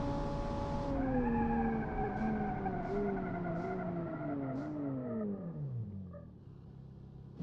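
Van engine revving in a racing video game, a steady loud drone rising and holding, then falling away as the revs drop near the end, with no talk.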